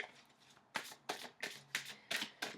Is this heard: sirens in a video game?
no